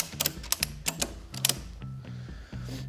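A ratchet strap rated 3,300 pounds being cranked tight while testing a snowmobile trailer, with sharp, close metallic clicks in quick bursts of several strokes and short pauses between them.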